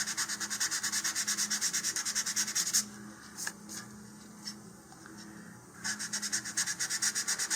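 A model rocket body tube being sanded where the fins attach, a rapid back-and-forth rasp in steady strokes that pauses for a few seconds in the middle and then resumes, close and fairly quiet.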